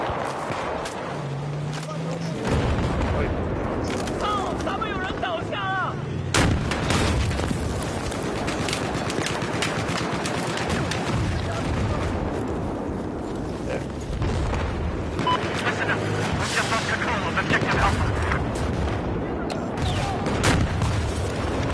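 Gunfire in a PS4 video game: dense, loud bursts of shots and booming blasts crowd together nonstop over a thick background of game noise, with voices mixed in.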